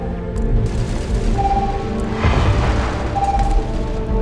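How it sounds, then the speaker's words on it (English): Turrets firing in the sci-fi game Starfield, heard as a dense run of deep booming bursts that swell loudest midway over a steady low drone, with no talk. "the turrets are firing at something"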